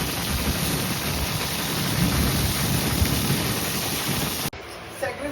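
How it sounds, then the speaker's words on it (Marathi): Heavy rain pours in a dense, roaring hiss at night in Mumbai's Aarey Colony, with a low rumble of thunder underneath, then cuts off abruptly near the end. "खूप जोरात पाऊस आलाय."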